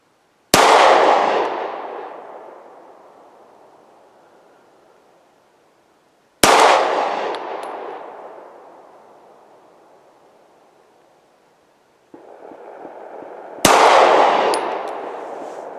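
A Glock 43X pistol fires three loud, sharp shots spaced several seconds apart outdoors, each followed by a long decaying echo, with no audible hits on a far target.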